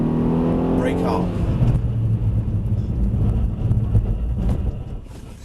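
Car pulling away and accelerating during a driving lesson, a steady close engine rumble rising through the gears, with an instructor talking over it throughout.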